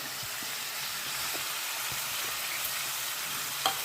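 Onions, tomatoes and ginger-garlic paste fry in a pan with a steady, even sizzle, broken by a few faint scrapes and taps near the end, with no one talking.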